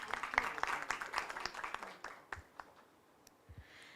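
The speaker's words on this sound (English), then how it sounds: "A round of applause, please." Audience applause at a university campus event, a scattered round of clapping that starts fairly full and thins out into a few isolated claps as it fades.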